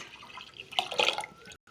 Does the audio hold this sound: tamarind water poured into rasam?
yes